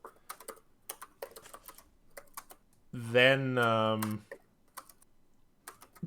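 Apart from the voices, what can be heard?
keyboard typing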